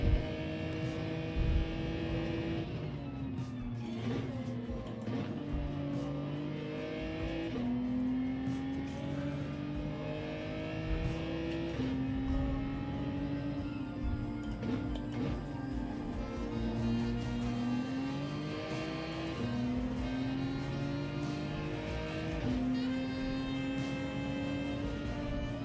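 A race car engine in Gran Turismo holds a steady, loud whine alone, with pitch sweeping up and dropping repeatedly through gear changes, held in fourth gear through the corners.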